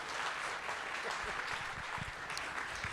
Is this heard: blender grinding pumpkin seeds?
no